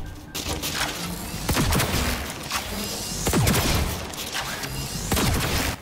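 Rapid gunfire in Cyberpunk 2077, bursts of sharp shots cracking out in clusters over a steady, loud game-combat background, recurring every second or so through the clip.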